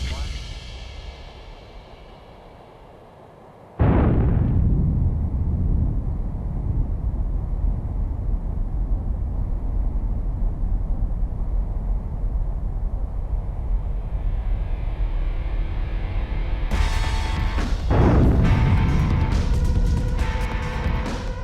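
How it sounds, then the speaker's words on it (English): Nuclear weapon test detonation in the Pacific: after a quiet lull, a sudden massive blast erupts into a long, continuous roaring rumble lasting many seconds, with a second surge of crackling noise near the end. "After World War II, 23 nuclear weapons were detonated here."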